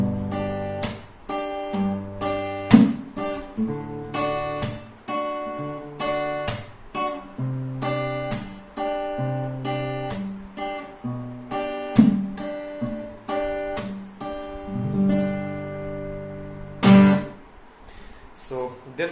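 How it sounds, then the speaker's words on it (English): Rhythm guitar plays a percussive chord progression, strummed chords mixed with sharp muted slaps in a steady groove that runs throughout, close and clear with no talking. "So the entire lick or this entire practice chord progression should sound like"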